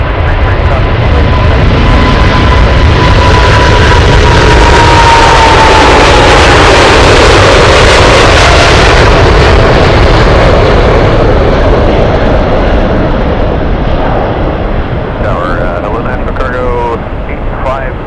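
Large jet aircraft taking off from runway 33 at Anchorage airport, a loud, constant roaring engine rumble that holds steady for the whole stretch, with a rising whine and no pauses.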